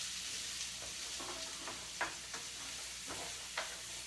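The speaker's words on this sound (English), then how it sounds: "let's give these carrots here and garlic a stir" Carrots and garlic sizzle steadily in a frying pan while a utensil scrapes and stirs them in several distinct strokes, close and moderately loud.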